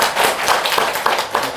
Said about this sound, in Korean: 네, 박수 한번 칩니다.